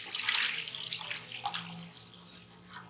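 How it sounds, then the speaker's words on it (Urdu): Water pours in a steady splashing stream into a cooking pot for boiling rice, close and alone, easing off toward the end. "یہ ہم نے سب سے پہلے پانی شامل کر دیا ہے"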